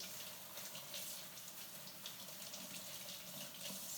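Steady running tap water pours into a sink, a continuous hiss and splash with faint movement of chicken breast being rinsed under the stream.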